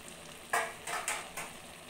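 Chicken sizzles in a pan as a crushed spice paste is added, with three sharp hissing bursts and stirring scrapes spaced about half a second apart over a quiet frying crackle.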